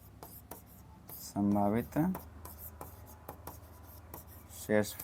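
Pen scratching on paper while working a class 10 maths problem on possible remainders, light intermittent strokes between two short bursts of a voice.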